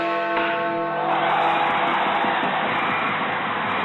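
A bell is struck once during a live sports podcast segment, a bright ringing tone that rings out and fades into a sustained wash of noise.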